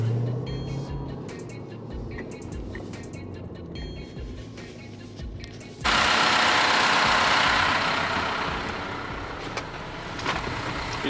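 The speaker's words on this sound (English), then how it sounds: "I'm gonna go park my truck right against that fence" A truck engine runs with a low rumbling idle while being driven and parked against a fence, then a sudden, much louder broad roar takes over and holds steady to the end.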